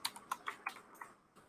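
Quick bursts of typing on a computer keyboard, about eight soft key clicks in an uneven rhythm that taper off, recorded close but faint in a quiet room.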